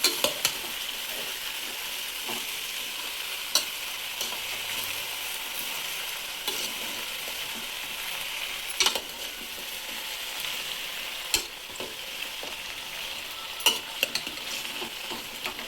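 Jackfruit vegetable cooking in a pan, Konkan-style, stirred steadily with a close, continuous sizzle and frying hiss, punctuated by occasional scraping clicks of the spoon.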